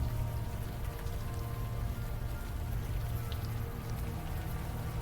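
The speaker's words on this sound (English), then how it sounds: "the warm rain is coming in" Warm rain falling in the video game Unavowed, a dense, even patter of drops with a low rumbling bed, steady and close for the whole stretch with no speech.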